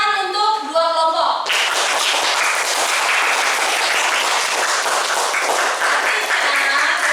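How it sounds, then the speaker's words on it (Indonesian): Classroom applause for two student groups, a dense steady clatter of many hands clapping close by after a brief spoken moment at the start, sustained evenly to the end. "tepuk tangan untuk 2 kelompok."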